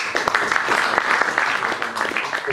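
Applause from the audience at a business angels pitch session in Bangkok, a dense steady patter of clapping hands sustained throughout, fairly close and continuous with no voices standing out.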